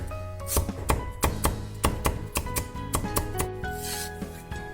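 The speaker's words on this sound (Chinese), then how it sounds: "把大蒜子稍微拍破就可以，再切点姜片" A knife on a cutting board crushes garlic cloves and slices ginger, making a quick series of sharp, close chops and thuds in an uneven rhythm over soft background music.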